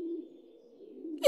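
A soft, low cooing hum of doves carries steadily, followed by a brief brighter burst at the end.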